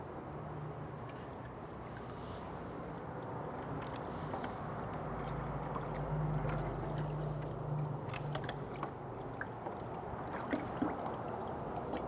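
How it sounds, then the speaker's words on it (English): Running water rinses salt seasoning off a quick-cured pork loin, a steady close splashing and gurgling stream that lasts throughout, with a few faint knocks toward the end. "Next step is to rinse off all of the seasoning."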